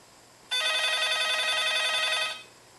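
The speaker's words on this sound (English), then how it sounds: "So every time the phone rings," A phone rings steadily for about two seconds during a call placed to a homemade phone-activated switch, the electronic trill loud and close with no talking over it.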